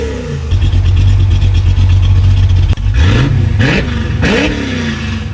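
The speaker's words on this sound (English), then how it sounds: "I can choose from open headers with manual cutouts, straight pipes, or mufflers with the flip of a switch" A Ford Mustang engine revving with its exhaust switched to mufflers: a loud, close, steady idle roar followed by several sharp throttle blips rising and falling in pitch, with no talking.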